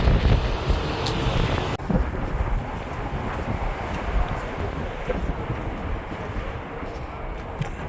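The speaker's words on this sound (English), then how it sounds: "Super windy." Strong wind roars and buffets the microphone at the Hoover Dam scenic overlook beside the highway, a loud, continuous rumbling gust with no talk.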